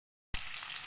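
Green chillies hit hot mustard oil with fenugreek seeds, bursting into a sudden loud sizzle after a moment of silence and then crackling steadily up close.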